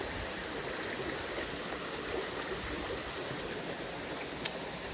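A constant broadband rush of flowing water, like a nearby stream, steady and unbroken throughout with no voices.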